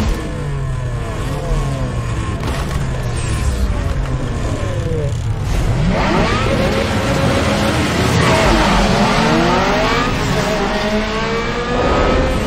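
Cars rev and roar at a race start in Need for Speed Underground, several engines climbing and sweeping in pitch together, loud and continuous with a brief skid-like whine.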